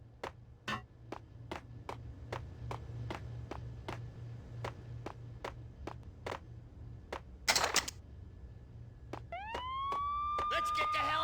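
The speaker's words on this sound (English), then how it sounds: "I'm allergic to sirens!" Police sirens in the Max Payne PC game wail steadily under a run of sharp, evenly spaced gunshot-like cracks, with a rising siren sweep growing louder near the end.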